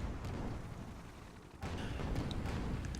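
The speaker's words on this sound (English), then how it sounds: "there are some Flak shots and a mine going out" Video game flak gun shots and a mine launch, with muffled low booming bursts over a dense rumbling background and a stronger thump about halfway through, followed by a few fainter pops.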